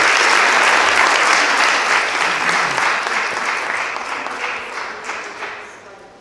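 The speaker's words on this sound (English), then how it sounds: "let's give him a round of applause" An audience applauds speaker Cormac at a community conversation event: dense, loud clapping from a crowd, steady at first and then gradually fading over several seconds.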